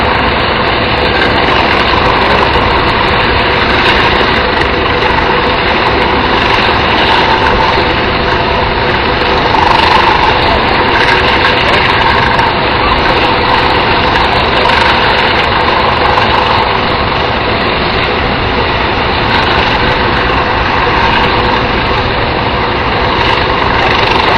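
Helicopter engine running continuously nearby, a loud, steady turbine roar with broad whine that holds level throughout, with no talk over it.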